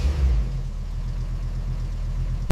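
A 1957 Cadillac Eldorado Biarritz engine idles steadily after its first start at the factory, a low, even rumble and a faint mechanical throb, no voices present.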